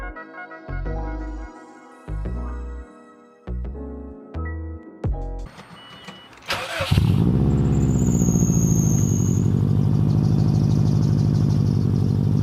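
Subaru WRX fitted with an external wastegate cranks over in a few loud, choppy bursts, then fires and settles into a steady, loud idle with a high whine riding on top.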